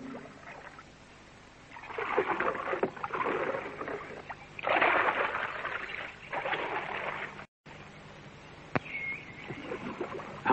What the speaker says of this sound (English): Half an hour's paddling against the current.